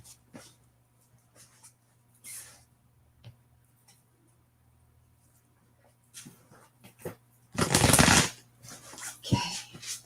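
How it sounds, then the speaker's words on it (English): Star Tarot cards being shuffled by hand, in quiet scattered rustles followed by a loud burst of riffling near the end, with faint voices and background hum. "It withstands my very strange shuffling."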